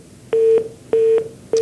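Telephone tones sound as a call drops on a live TV phone-in: three loud, identical short beeps, each about a quarter second long, repeating at an even pace with brief gaps of quiet between them.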